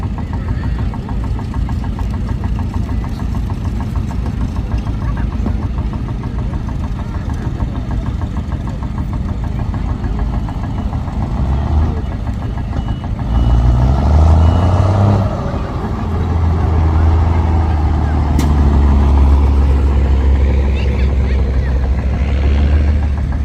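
Vintage tractor at the Sheffield steam show, running in first gear at maximum revs with a steady chugging, knocking engine note close by, growing louder and deeper partway through as it moves past.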